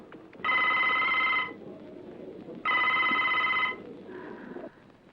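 Two loud electronic telephone rings of about a second each, separated by a pause, followed by a fainter third tone, as a call is placed to a police station; no talking.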